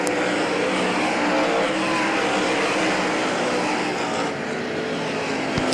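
Race cars roar steadily around the Hagerstown Speedway oval during a lap of competition, a dense continuous engine drone with passing surges, loud and close throughout.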